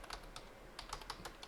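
Light, quick keystrokes patter on a computer keyboard as a search is typed, a short run of soft clicks heard close and alone.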